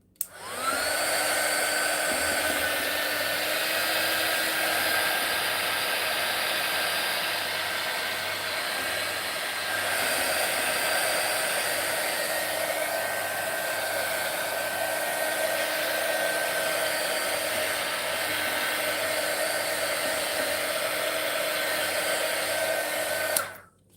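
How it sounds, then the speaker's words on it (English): A heat tool blows continuously to dry a paper craft project, a loud steady whoosh with a faint whine that runs unbroken throughout. "So I'm going to take a heat tool to dry this faster."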